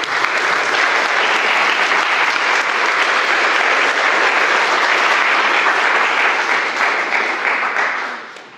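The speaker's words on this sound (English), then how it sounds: "A big round of applause for all the sponsors as well." A conference audience at a PocketQube workshop gives the sponsors a sustained round of applause, thick continuous clapping from a roomful of people that stays loud and even for about eight seconds before trailing off.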